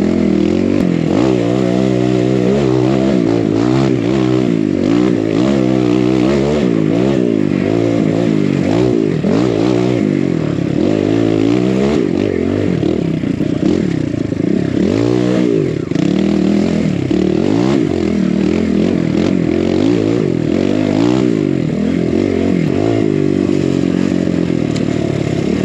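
Kawasaki KLX140 dirt bike, a small children's model built up for riding, revs and clatters over a hard technical extreme enduro course, its engine loud and continuous with repeated throttle blips and scraping.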